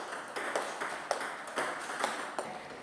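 A table tennis ball is struck repeatedly with a paddle by a person with Parkinson's disease practicing alone. The faint, quick pings come in a steady rhythm of about two per second.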